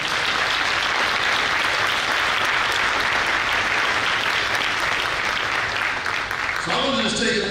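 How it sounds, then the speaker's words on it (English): Loud sustained applause fills a school district's military signing day ceremony, dense clapping from a large audience holding steady for several seconds before a voice begins speaking near the end. "Can we just clap it up for that, y'all?"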